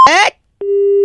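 A phone call is cut off: a short burst of voice gives way to silence, then a steady electronic busy tone sounds loudly and alone.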